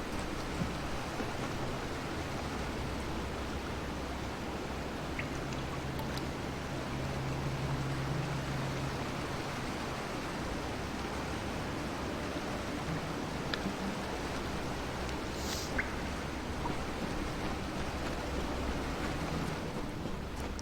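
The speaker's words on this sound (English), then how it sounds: "Ah, that waterfall." A waterfall in the fantasy game Kingdoms of Amalur Re-Reckoning gives a continuous broad roar of rushing water, steady and enveloping, with no talk over it.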